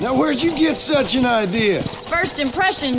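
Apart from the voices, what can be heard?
No everyday noise stands out behind the speech.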